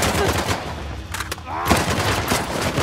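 Video game gunfire during a temple firefight in Uncharted: The Lost Legacy, a dense run of shots and bursts over busy game sound, with a louder crack near the end.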